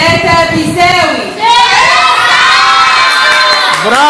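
Children in a Faster Math class at the Giza branch cheering and shouting together for themselves, loud and close, a burst of excited voices sustained across the moment.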